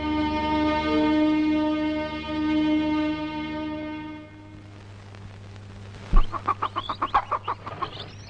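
Chickens clucking in a village in Velankanni. A steady tonal drone comes first, then a quick run of sharp, close clucks near the end.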